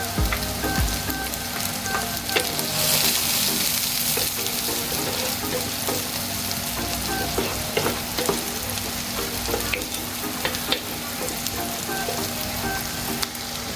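Garlic and onion sizzle steadily in a hot pan for a Filipino shrimp-paste dish, a dense continuous frying hiss with occasional stirring scrapes and clicks.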